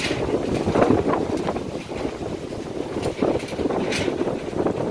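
Strong wind from Cyclone Remal roars steadily into the microphone, buffeting it with loud rushing gusts that swell and ease over a few seconds, with no voices.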